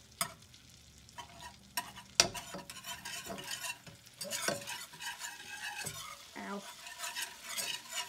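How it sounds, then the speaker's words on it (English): Butter melts and sizzles in a pan, a soft crackling hiss broken by stirring clinks and a sharp knock, with a brief exclamation from a voice. "So now I'm melting some butter in a pan."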